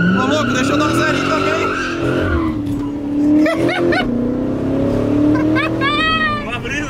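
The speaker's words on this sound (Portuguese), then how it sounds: "deixa eu dar um zerinho" A Corvette spins through a donut, its tires squealing and skidding loudly over a revving engine for several seconds, with rising and falling screeches near the end.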